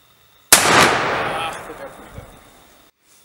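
A Trapdoor Springfield rifle fires a single lead-bullet shot: one loud, sharp blast that rolls away in a long echoing decay outdoors.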